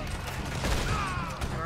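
Rifle gunfire in the video game Red Dead Redemption 2, a dense burst of shots from an enemy hideout, sounding like a fusillade, with a voice shouting over it.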